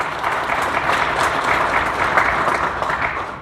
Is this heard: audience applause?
yes